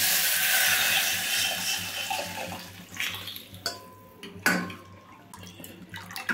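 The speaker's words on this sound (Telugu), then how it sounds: "ఇది చూడండి రసం పోసేసుకుందాం" Tomato rasam pours out in a steady close liquid rush for about three seconds, then trails off into drips, sloshes and a few light clinks of a vessel.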